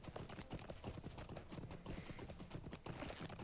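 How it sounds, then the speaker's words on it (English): Steady clip-clop of a stable horse's hooves while riding in the game Lord of the Rings Online, a brisk continuous rhythm with a faint whinny-like tone, heard alone without talk. "Riding the stable horse, of course."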